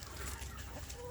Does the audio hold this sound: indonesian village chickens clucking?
yes